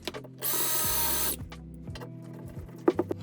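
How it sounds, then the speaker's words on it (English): A power drill drives a screw into a wooden staircase during a remodel, one loud sustained whir up front, then stepped motor pulses as it snugs down, with a few clicks near the end. "get that one snug and get that next screw in"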